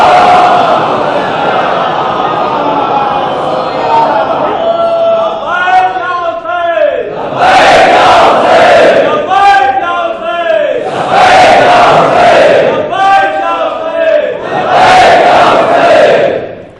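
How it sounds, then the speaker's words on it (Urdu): A large congregation at a Shia majlis in an imambara in Lucknow chants salawat loudly in unison, in several swelling collective bursts that rise and fall over a reverberant hall. "ایک صلوات بھیج دیں بلند"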